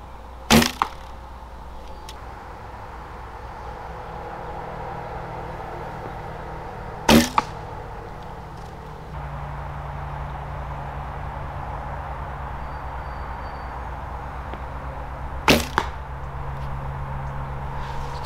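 Traditional archery shots outdoors: three sharp, loud snaps of a bowstring releasing an arrow, spread several seconds apart over a low steady background hum.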